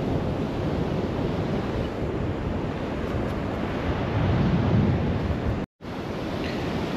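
Mountain water rushing down toward the sea in the Faroe Islands, a continuous broadband roar with wind buffeting the microphone, steady and close, briefly cutting out near the end.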